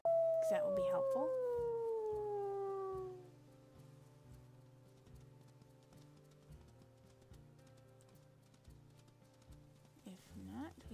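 A wolf in the WolfQuest video game lets out a long, loud howl that slides downward for about three seconds, followed by quieter rhythmic in-game ambience and soft footstep-like thuds.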